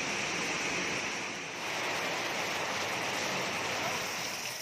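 Rain pours outside a house in Tripura as a steady, even hiss of falling water. It stays constant and moderately loud, with no break and no talk.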